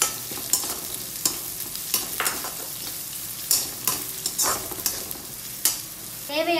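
Chopped onions and curry leaves fry in a pan with a steady sizzle, while a spatula stirs and scrapes in a regular rhythm of distinct close strokes, with no voices.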